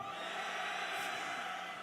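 A large outdoor political rally crowd roars a sustained collective shout, a dense, steady wall of voices at moderate distance with no break.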